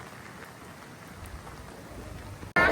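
Steady rain patters and hisses on a surface, fairly close and even, before a brief cut to a louder burst of noise at the end.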